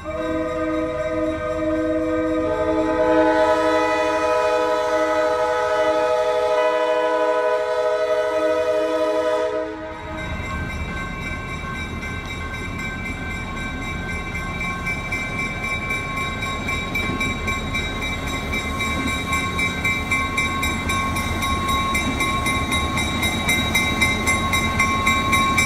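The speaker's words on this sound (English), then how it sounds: "we caught the Old Road Dinner Train, passing the unique grade crossing signals at North Lane Street." An Old Road Dinner Train on the Adrian & Blissfield Railroad passes a grade crossing at North Lane Street, sounding loud sustained horn blasts over steady rolling rail noise that stays close and strong throughout, with no talk.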